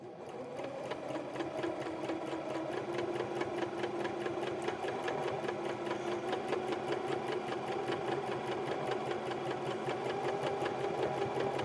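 A sewing machine stitches at a slow setting, giving a steady, rapid run of mechanical ticks over a continuous motor hum throughout, with no talking.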